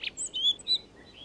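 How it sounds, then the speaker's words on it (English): Rock thrushes singing on a South African Drakensberg mountainside at the end of August: a few short, bright chirping phrases, fairly close and clear, over quiet background hiss. "when the rock thrushes start to sing"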